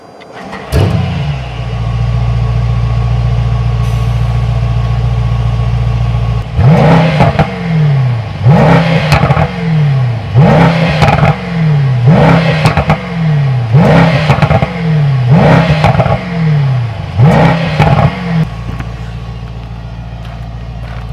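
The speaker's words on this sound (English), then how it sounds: "This is why we love the V8. This rumble, absolutely fascinating to me." Mercedes-AMG GT 63 S E Performance hybrid V8 starts, then settles into a deep, loud idle rumble broken by about eight sharp throttle blips that rise and fall in quick succession before easing back to a steady idle.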